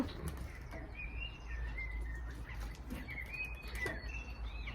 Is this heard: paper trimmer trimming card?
no